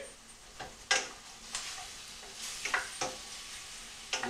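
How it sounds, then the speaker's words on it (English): Onions sautéing in a pan, a faint, steady sizzle broken by several scraping stirs of a utensil, close but quiet throughout. "I'm going to saute the onions in here."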